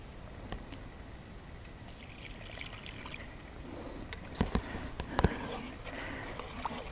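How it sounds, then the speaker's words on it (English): Vegetable water poured into a bacon-fat roux in a frying pan during an outdoor woods cook-up of Nova Scotia hodge podge, giving a steady low trickle and sizzle over faint ambient noise, with a few sharp clicks near the end. "I'm going to pour in a little bit of this vegetable water."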